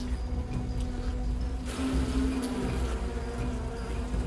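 A dense, steady hum of many honey bees buzzing close by at a hive entrance, continuous and droning with no voices.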